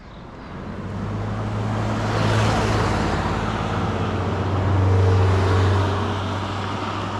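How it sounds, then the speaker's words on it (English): Road traffic flows past on a mountain road in Japan, a steady broadband roar that swells twice as vehicles go by, one of them a heavier engine drone, heard from the roadside with no voices. "Yep, traffic is already starting."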